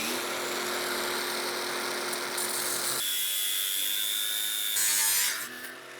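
A Parkside power tool cuts through thick 1.5 mm sheet metal during an old car restoration, giving a steady harsh whine that shifts in tone partway through and swells briefly near the end.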